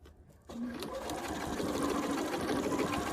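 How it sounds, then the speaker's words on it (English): A sewing machine starts up and stitches binding on a quilted potholder through many layers, a steady close whirring buzz running without pause after a brief quiet opening. "you're sewing through a lot of different layers, so the machine is actually taking closer stitches"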